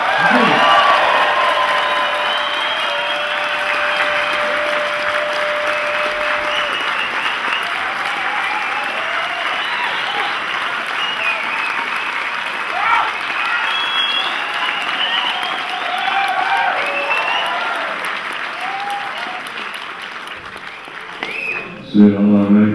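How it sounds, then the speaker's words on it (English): A large audience applauds loudly and continuously with some cheering for Howard Marks at a university Q&A event, a dense sustained ovation that fades near the end. "Please show your appreciation by clapping your hands really fast and roaring really loudly"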